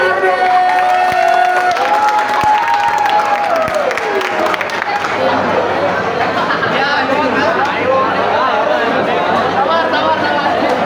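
A crowd at a live stage performance by an idol girl group in a shopping mall in Bandung applauds and cheers loudly and steadily, with chatter and babble mixed throughout, while a sustained tone fades early on.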